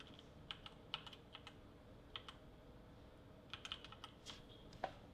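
Keystrokes on a computer keyboard while setting up white text for a Porsche GT3 RS poster in Photoshop, sparse irregular clicks in small clusters, close and quiet, no talking.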